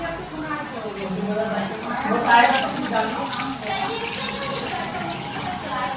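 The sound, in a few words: pouring a little water onto cooking meat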